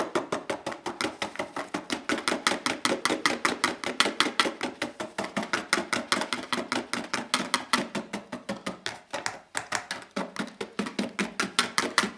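Rapid, steady whisking of baking soda into a homemade Marseille soap laundry mixture in a bowl: a close, continuous stream of quick rhythmic taps and scrapes lasting throughout, with no talk.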